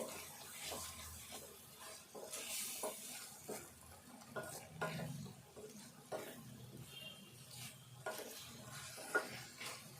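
A chili powder curry of paneer, tomato and onion simmers in oil in a pan, a faint soft sizzle with intermittent stirring scrapes close by.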